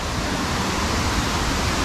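Waterfall at Illikkal Kallu, a steady, full-bodied roar of falling water filling the whole clip at even loudness, with no voices.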